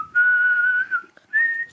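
A person whistles a few sustained, clear notes in a short melodic phrase, with a brief pause before a final held note.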